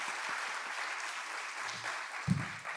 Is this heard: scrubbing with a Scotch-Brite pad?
no